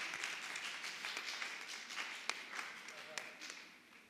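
A church congregation at a Sunday evangelical service applauds the Lord with steady, sustained clapping that fills the room, a couple of sharper claps standing out, with voices mixed faintly under the applause.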